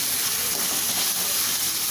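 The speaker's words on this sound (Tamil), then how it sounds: "இனி கொஞ்சம் நேரம் நல்லா வதக்கிக்கலாம்." Carrots cut into long strips sizzle steadily in a pan while being sautéed for vegetable fried rice, a continuous close hiss with no breaks and no talking.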